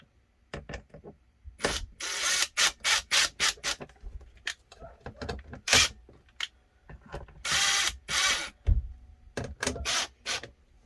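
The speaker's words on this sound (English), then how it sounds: "let's go ahead and get that screw in right there." A screw being driven while installing batteries in a 48V solar system: close, rapid ratcheting clicks in repeated short bursts with brief pauses, alone without talk.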